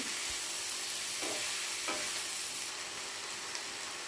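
Gongura (sorrel) leaf curry being stirred in a pan, with a steady soft sizzle and a couple of faint scraping strokes of the spoon; no voices.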